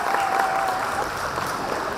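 A school annual day audience of parents and teachers applauds a speech, steady continuous clapping filling the hall, moderately loud and even with no talk on top.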